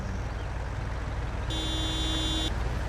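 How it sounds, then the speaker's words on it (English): Car horn beeping in Farming Simulator 19, a single steady one-second honk rising above a constant engine drone, nearby and clear. "Don't you beep at me, butthead."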